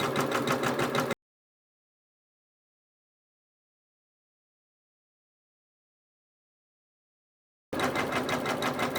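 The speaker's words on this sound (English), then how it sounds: "It's stitching at 400 stitches per minute." A Janome embroidery machine stitches a quilt-in-the-hoop applique block at 400 stitches per minute, a steady mechanical whirring heard in two short bursts at the start and end with a silent gap between.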